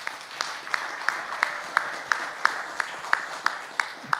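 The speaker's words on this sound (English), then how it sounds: "Let's give a round of applause to our panelists." Faint applause for panelists at a Eurasian IT forum, heard as a soft wash of clapping with a few sharper claps standing out at a steady pulse across about four seconds.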